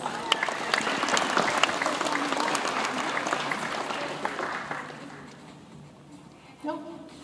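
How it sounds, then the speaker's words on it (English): An audience claps at a hall of fame event, a dense burst of applause that carries strongly for several seconds, then fades out, with a little talk at the end. "And give yourself a round of applause."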